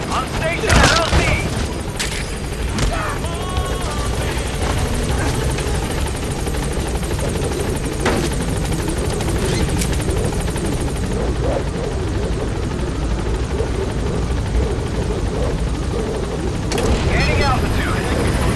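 The Pequod helicopter in Metal Gear Solid V thumps with loud, continuous rotor noise near the landing zone, with scattered gunfire bursts and booms, while a radio voice talks over it.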